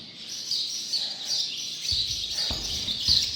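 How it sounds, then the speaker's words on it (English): Many small birds chirp and twitter continuously in the background, with some low bumping noises near the end. "there are really a lot of birds"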